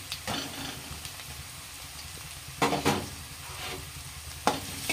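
Lengthwise-sliced medium onion frying in a pan, a low steady sizzle punctuated by a few loud scraping stirs, close by with no talking.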